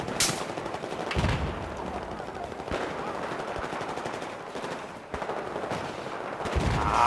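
Sniper fire and surrounding gunfire in the Battlefield 4 first-person shooter: loud, sharp individual shots ring out at irregular intervals over a steady rattle of distant automatic weapons and battlefield rumble.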